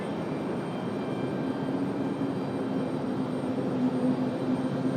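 A Breeze Airways jet departs Raleigh-Durham International for White Plains, its engines a steady broadband roar held at a constant level, distant rather than close, with no talking.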